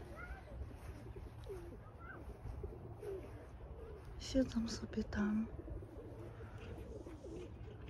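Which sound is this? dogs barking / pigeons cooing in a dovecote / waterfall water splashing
pigeons cooing in a dovecote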